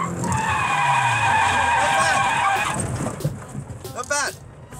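A Nissan S15 Silvia drifts with its tyres skidding in a loud, sustained squeal over the roaring engine, then eases off into quieter engine revs.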